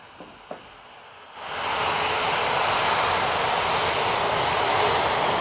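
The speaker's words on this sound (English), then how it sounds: "It's a plane." A fixed-wing airplane passes overhead on a dark night, its engine a steady, loud broadband roar that swells in after a quiet opening with a couple of faint clicks, then holds full and close to the end.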